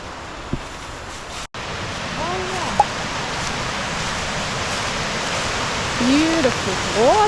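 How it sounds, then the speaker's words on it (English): Waterfall on the West Highland Way near Loch Lomond, a steady broad rush of falling water heard from nearby, with a brief dropout early on, a few faint bird chirps and light voices now and then. "Beautiful waterfall."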